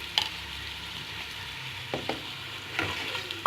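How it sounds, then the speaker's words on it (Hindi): Chicken pieces in masala and chicken powder fry over low heat in a pan for a chicken and potato curry, giving a soft steady sizzle with a few sharp clinks and scrapes of stirring. "थोड़ा इसको भून के इसमें हम दही शामिल करेंगे"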